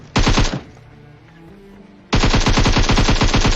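Uzi submachine gun fire in the PUBG Mobile battle royale game: a loud half-second automatic burst, a quieter lull with faint background sound, then a longer sustained rapid-fire burst of about a second and a half.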